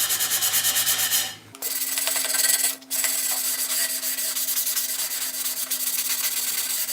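Steady, close hand sanding of wheel lip edges with 220 grit sandpaper, a rapid rhythmic rasping that pauses briefly twice before carrying on, with no talking.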